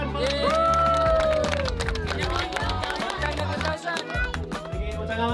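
Applause from a game-show crowd in the Philippines, loud dense clapping and cheering sustained throughout over booming background music.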